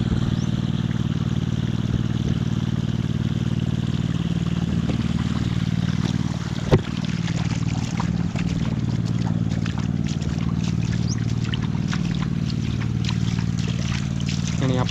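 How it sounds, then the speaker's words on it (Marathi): An engine pump pours water into a rice paddy in a misty Konkan village, a steady low motor drone under rushing, splashing flow, with one brief knock midway. "हा बघा इकडे इंजिनचं पाणी आहे"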